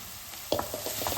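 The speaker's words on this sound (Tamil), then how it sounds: "காஷ்மீரி மிளகாய் தூள் ஊற வச்சு அரைச்சிருக்கோம் இல்லையா, இந்த பேஸ்ட் இதில் சேர்த்துடலாம்." Kashmiri chilli paste, made from soaked and ground Kashmiri chilli, hits a hot pan for chilli paneer fried rice with a sudden sizzling burst, followed by a few soft stirring scrapes.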